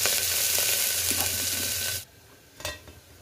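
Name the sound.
onions frying in a pan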